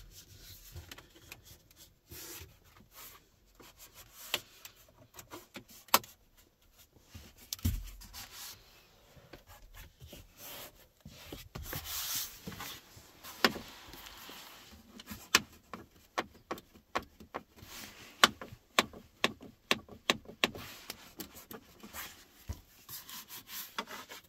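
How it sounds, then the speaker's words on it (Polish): Frozen interior trim of an Audi SQ8 Sportback e-tron creaking and ticking as it is pressed, with scattered soft rubs and sharp little clicks that grow more frequent toward the end, close and quiet. "część rzeczy mocniej strzela przez zmrożone wnętrze"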